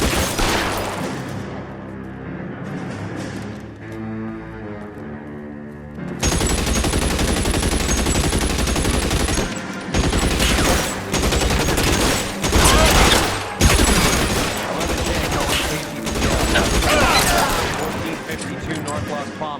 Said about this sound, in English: Shots fired and officers need help at 1452 North Las Palmas.